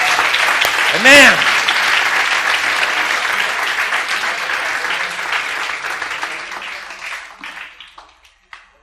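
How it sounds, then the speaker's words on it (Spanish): A church congregation bursts into loud, sustained applause that fills the room, with a single voice calling out briefly near the start; the clapping thins and fades out toward the end. "Dale ese aplauso más fuerte al Señor."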